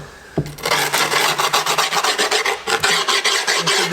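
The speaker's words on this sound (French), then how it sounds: "Allez, hop, je lime directement." A file rasps along the edge of skateboard grip tape in quick, loud, close back-and-forth strokes, a steady rhythmic scraping after a brief knock at the start.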